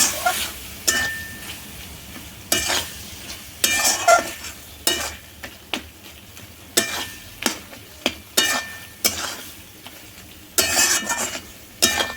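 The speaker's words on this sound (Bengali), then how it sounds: "এবার এটাকে পুরোপুরি কষতে হবে" Spice masala for a chicken dish stir-fried in hot oil, with a steady sizzle broken by repeated scraping strokes of a spatula against the pan in an uneven rhythm, close and fairly loud, with no talking.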